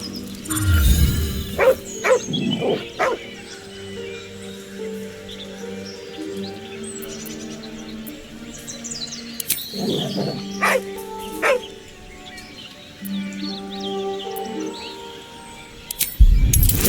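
A dog in the Baldur's Gate 3 video game barking and whimpering, with sharp loud barks early and again near the end, whining cries in the middle, and faint bird chirps and ambient game sound throughout.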